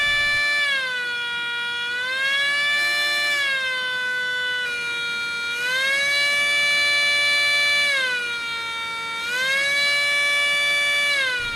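A 3D printed micro tornado air raid siren whines at high voltage, a loud piercing high-pitched tone that rises and falls in several slow sweeps, heard alone and close.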